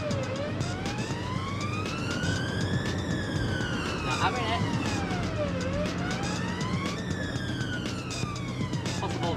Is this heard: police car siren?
yes